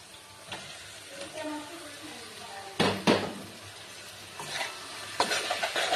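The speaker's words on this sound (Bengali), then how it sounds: "এবার আমি সাবুটা দিয়ে দেবো। যে সাবুটাকে ভিজিয়ে আমি ঝরিয়ে রেখেছিলাম সেই সাবুটা এখানে দিয়ে দেবো।" Soaked, drained sago is tipped into a pan of fried vegetables for sago kochuri, giving a low sizzle with soft scraping stirs and a few louder clattering bursts near the pan.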